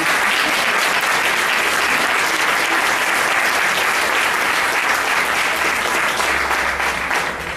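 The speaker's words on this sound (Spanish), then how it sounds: "pido un aplauso para ella" Sustained, full applause from a university lecture audience, a thick uniform wash of clapping that stays loud and even throughout.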